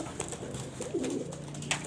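Racing pigeons coo in a loft, a soft low throaty coo rising midway through against a steady background hum, with a few faint bird chirps around it.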